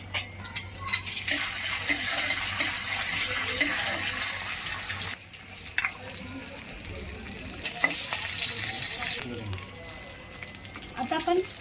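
Bay leaf and curry leaves sizzle in hot oil in a pan for restaurant-style jeera rice. A steady frying hiss comes with stirring scrapes and a brief watery splash midway, and a faint voice is heard now and then.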